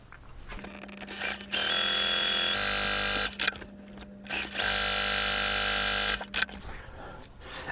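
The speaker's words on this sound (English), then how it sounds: "take this over to the sewing machine and we're going to sew 1/4 inch away from that line on both sides." A sewing machine stitches quilt pieces a quarter inch from a drawn line, two sustained bursts of motor hum and needle chatter separated by short pauses, close and clear.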